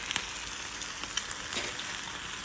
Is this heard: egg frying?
yes